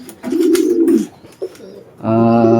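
Racing pigeons kept in a loft for a one-loft race coo up close in low, throaty, rolling calls, first one long coo, then a brief pause and a second, louder coo.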